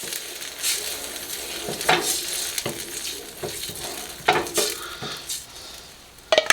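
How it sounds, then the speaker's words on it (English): Spoon stirring sauce into an eggplant Parmesan mixture in a hot pan, with a soft sizzle underneath and scraping strokes against the pan, close up with no talking. "Stir this up really well."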